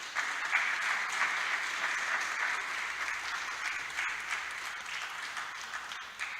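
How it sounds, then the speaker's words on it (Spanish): Sustained audience applause at an anniversary conference on 500 years of the Protestant Reformation, a dense, even wash of clapping that fades slightly toward the end. "Démosle otro aplauso"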